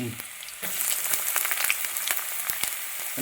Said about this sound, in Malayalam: അതിലോട്ട് ഒരു കഷ്ണം ഇഞ്ചി ചെറുതായിട്ട് അരിഞ്ഞതിടുന്നു